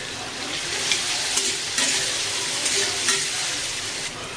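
Potatoes fry in a pan with a pinch of salt for a prawn and potato dish, giving a steady close sizzle with faint stirring scrapes and no talk.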